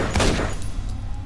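A single loud burst of video game weapon fire, a close crackling blast that quickly fades into a low hum.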